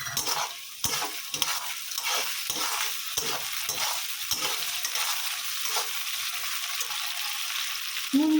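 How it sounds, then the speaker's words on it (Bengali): Shrimp sizzling in hot oil with fried garlic and onion in a pan, stirred with a steady scraping rhythm throughout, a loud close sizzle with no voices. "রসুনটা ভাজা হয়ে গেছে, এবার চিংড়ি মাছটা দিয়ে দেবো।"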